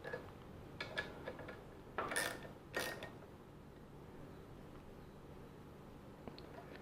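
A 10mm socket wrench gives a small snugging turn to a bolt on the engine guard of a Toro Timemaster mower, making a few short ratcheting clicks and creaks, close and fairly quiet, with no talking.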